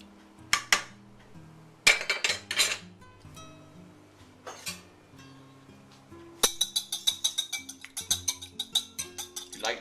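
A spoon stirs hot and sour soup in a pot, clinking and scraping against the metal in irregular bursts, then a quicker rhythmic run of sharp taps near the end, close and clear with no talking.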